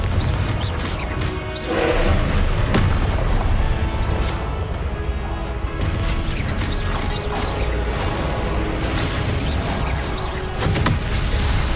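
Confringo explosive spell blasts in the Hogwarts Legacy video game, dense crashing and crackling bursts with mechanical rattles filling a loud, busy soundscape throughout.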